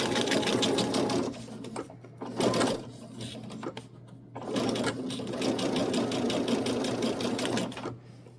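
A sewing machine stitches small pieces of quilt fabric, a patchwork corner-square triangle, in close mechanical bursts with short pauses between runs of stitching.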